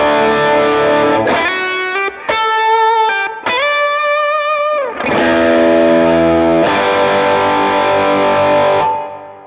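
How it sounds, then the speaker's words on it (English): Electric guitar on the bridge pickup runs through an Axe-FX full drive, a Tube Screamer-style overdrive into a Vox AC30 amp model, playing loud, saturated chords and sustained bends in bursts with brief gaps, close and without talking. "So full drive, it's a variation of a tube screamer."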